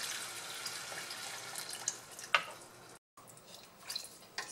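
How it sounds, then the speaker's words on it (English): Water pours steadily into a soup pot of lentil soup with kale, chard and smoked sausage, a continuous close splashing wash with a few sharper drips and clinks and a brief break. "that's about 3 cups of water I added in here"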